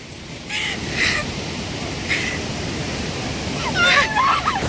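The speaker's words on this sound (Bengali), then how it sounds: "কি হাওয়া, ঝড়ের মতন।" Strong, storm-like wind buffets the microphone at Rondia dam in a continuous loud roar, and faint voices rise briefly near the end.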